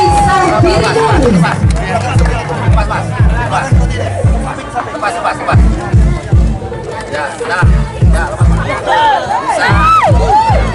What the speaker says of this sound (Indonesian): Boleh kita berikan tepuk tangan yang paling meriah untuk Bapak Haji Sahbiri Noor.